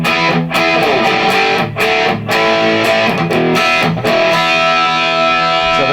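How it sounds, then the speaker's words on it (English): Electric guitar through a Boss Katana MkII amp on its Governor Distortion setting, modelled on the Marshall Guv'nor: a thick, loud, saturated distorted tone with sustained chords and a few short breaks between phrases, with no voices. "Governor Distortion. This is interesting because this is a Marshall Governor basically."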